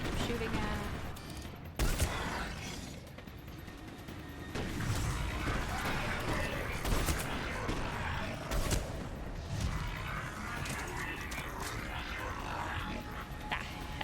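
Sustained gunfire in the video game Mass Effect, a steady crackling fusillade of rapid shots with sharp bursts and mechanical clatter running throughout, loud and dense, with some voice underneath.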